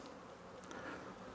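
Honeybees buzz around a hive split in a steady, continuous drone, close and fairly quiet, with a few brief higher whines of individual bees passing.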